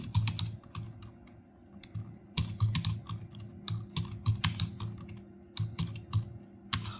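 Hindi text being typed in Mangal font on a computer keyboard, with close, crisp keystrokes coming in irregular bursts and short pauses between words, and no voices.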